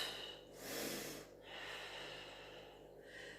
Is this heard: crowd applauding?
no